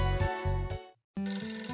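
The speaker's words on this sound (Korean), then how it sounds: "쿠로다 아야라는 분에게서 아가씨에게 전화가 걸려왔습니다" A telephone rings in the video game Princess Maker 5: repeated electronic ringtone bursts, a short pause of silence, then the ringing resumes, clear and close with no voices.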